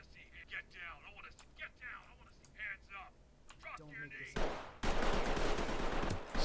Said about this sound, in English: Someone's shooting back.